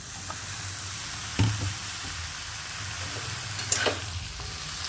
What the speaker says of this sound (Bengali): বেগুনটা দিয়েও আমি একটু ঢেকে ঢেকে এটাকে ভেজে নেব